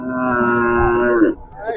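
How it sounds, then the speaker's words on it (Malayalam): A single loud, close bovine moo from cattle or a bull at a livestock market, a sustained low bellow of about a second that tails off into faint background murmur. "നല്ല ഇറച്ചിയുള്ള കാളകളുണ്ട്."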